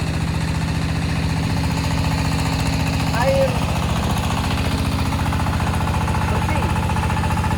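A water well drilling rig runs with a steady, loud mechanical drone and a rapid knocking pulse throughout, with a voice speaking over the machinery.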